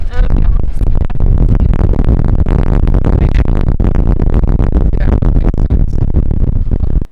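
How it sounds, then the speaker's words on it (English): Strong 70-mile-an-hour wind on the way to Wyoming: loud, continuous roaring and buffeting that batters the microphone close up for the whole stretch. "Sorry for the noise. It's 70-mile-an-hour winds up on our way to Wyoming."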